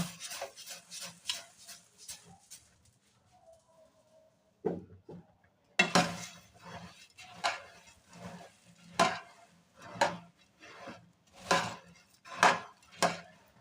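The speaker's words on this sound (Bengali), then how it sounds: "এখানে আমি যে খইগুলো রেখেছিলাম অল্প অল্প করে এখন মিক্সড করে নেব।" Puffed rice (khoi) being stirred and mixed with warm jaggery in a pot at home, giving repeated close scraping and rustling strokes in an uneven rhythm, with a short quieter pause partway through.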